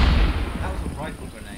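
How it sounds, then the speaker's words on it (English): A single loud, low rifle grenade explosion in the WWII game Post Scriptum, a heavy boom at the start fading into a rumbling decay, with a voice speaking faintly beneath it. "As you can see, that rifle grenade got Ham"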